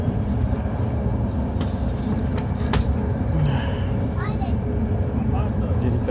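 A continuous low rumble and rattle of a train rolling along the rails fills the whole stretch, steady and close, with occasional faint clicks and squeaks.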